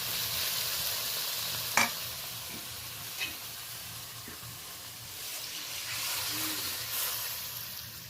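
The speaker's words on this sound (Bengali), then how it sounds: "এই পর্যায়ে আমি কিন্তু গরম জলটা যোগ করে দেবো।" Hot water poured into a pan of sizzling fried spice masala for a fish curry gives a steady soft hiss and bubbling, with a sharp splash near the start.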